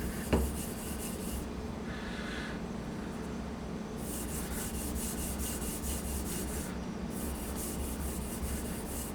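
A knife blade is stropped on an Edgewright sharpening system in groups of quick scraping strokes, close and moderately loud, with short pauses between passes and a small knock near the start.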